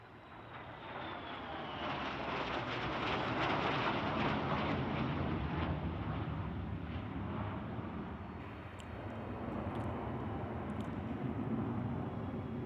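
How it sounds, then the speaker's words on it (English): F-35 Lightning fighter jets pass over an air fair, a deep, broad jet roar that swells and rumbles continuously, loud and sustained with no talk. "from Air Show Right out of Luke Air Base, your F-35 Lightnings"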